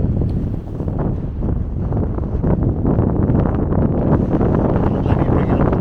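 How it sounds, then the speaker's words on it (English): Strong gusty wind buffets the microphone on an exposed Faroe Islands mountainside, roaring and rumbling continuously with no clear speech. "Apologies again for the wind."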